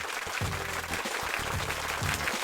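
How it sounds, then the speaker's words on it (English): A room full of people gives a round of applause for a football player during a weekly football wrap-up, with brisk, dense clapping that stays loud over a low voice underneath. "So Jorginho, round of applause for you, mate, and well done."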